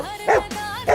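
A dog gives short, loud bow-wow barks and yips, two bursts about half a second apart, close by and alone without talk.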